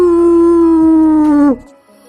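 A human voice imitates a jackal's howl with one long, loud, sustained "oooo" that slides slightly downward, held for about a second and a half before cutting off.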